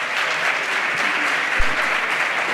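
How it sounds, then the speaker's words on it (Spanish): An audience at a women's football congress gives a sustained round of applause, dense clapping that holds at an even level from start to finish. "os pido a todas y a todos un fuerte aplauso"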